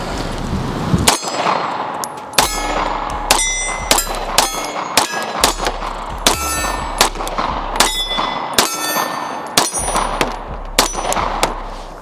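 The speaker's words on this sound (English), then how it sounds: "Let's try to shoot this thing one-handed." Repeated pistol shots from a SIG P365 ring off steel targets, each sharp crack followed by a bright metallic clang, fired one-handed in an irregular string of about a dozen reports, loud and close with no talking.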